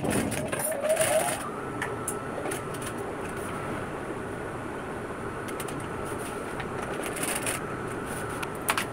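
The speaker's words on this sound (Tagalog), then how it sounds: "Okay, so nilagyan ko muna ng pin bago ko tahiin." Sewing machine stitching a strap onto a foldable bag, a steady close mechanical whirr running throughout with a few light clicks and knocks.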